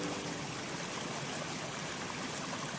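A flowing stream rushes steadily, a soft continuous wash of water with no breaks or other sounds.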